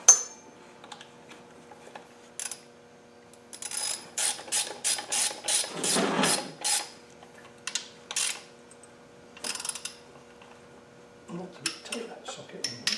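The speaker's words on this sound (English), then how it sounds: "Three-eighths ratchet gun." Three-eighths ratchet gun run in short bursts on a Defender 300 Tdi engine, a series of rapid buzzing rattles with one longer burst, between quiet workshop gaps and brief clinks of tools.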